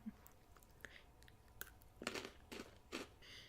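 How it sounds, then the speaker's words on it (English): Close, crisp crunching of a sweet butter-flavored breadstick being chewed, several sharp bites and crunches arriving in quick bursts with quiet pauses between, no talking. "It's like, a crunchy breadstick with sort of like a sweet butter flavor."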